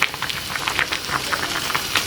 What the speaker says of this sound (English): And my pot over here bubbling.